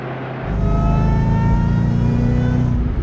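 A 2008 Ford Shelby GT500 with a JLT intake, VMP 2.5 pulley and custom tune accelerating hard, its engine roar rising loudly from inside the cabin with a high supercharger whine laid over it and no talking.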